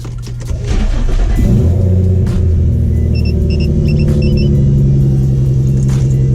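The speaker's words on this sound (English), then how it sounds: "Now I think we're good to start the car right now." An Infiniti G35 with a custom rear-mount turbo setup cranks and fires up, then settles into a loud, steady rumbling idle close by, with no talking over it.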